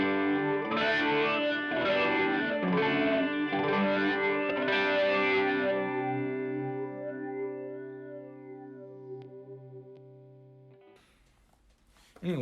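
Electric guitar played through a pedalboard with a Chemist pedal, phaser and chorus standing in for flange, feeding an HX Stomp; sustained swirling, modulated chords ring loudly for several seconds, then slowly decay into faint sweeping tails before a brief noisy click.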